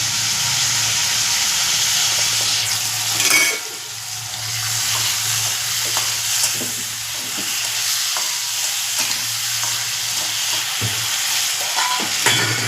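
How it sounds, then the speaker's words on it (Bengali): Shrimp frying in a pan with turmeric give a steady, close sizzle over a low hum, broken by repeated scraping stirs and one short dip as the pan is moved. "বেশি কড়া ভাজবো না, তাহলে আবার চিংড়ি মাছ শক্ত হয়ে যায়।"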